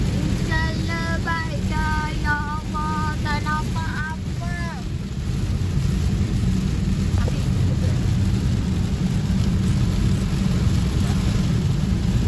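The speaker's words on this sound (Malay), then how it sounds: "hujan macam tak nak berhenti langsung. Memang lebat gila." Heavy rain pounds a car at night during a trip to a family village, a dense, constant roar of rain and road noise with a few brief voice-like tones near the start.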